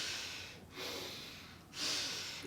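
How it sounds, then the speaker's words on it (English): Yoga breath-work with two long, forceful exhales through the nose, breathy and close, each followed by a brief gap; no talk. "That's breath work. Little forceful exhales out of the mouth."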